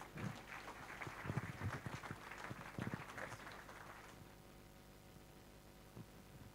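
Indoor audience applause for deputy Pierre Vatin at a local officials' New Year's greetings event in the Compiègne-Nord canton, a short burst of clapping that is soft and somewhat distant, fading into quiet room noise after about four seconds.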